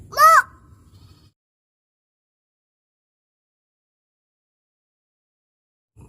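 Voice imitating a cow, a single short, rising-falling moo-like call at the start, then a long stretch of silence.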